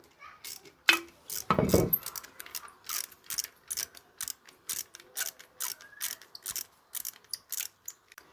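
A ratchet wrench loosening bolts on a Kawasaki ZR-750 Zephyr motorcycle, with rapid bursts of close, crisp clicking repeating in a steady rhythm and one louder metallic clunk early on.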